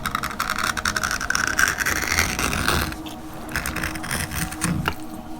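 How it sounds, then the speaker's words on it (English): Repeated scraping, knocking cuts of a knife through chicken on a hard cutting board, busy and close, with a brief quieter stretch midway before more chopping strokes. "That's the cutting board making that noise,"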